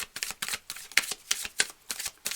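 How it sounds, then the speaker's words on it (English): Tarot cards shuffled by hand come through as rapid, crisp riffling bursts in an uneven rhythm, close and fairly loud, with nobody speaking. "I'm going to shuffle, okay?"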